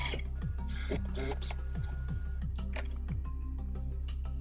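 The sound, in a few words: sewing machine sewing pillow sham seam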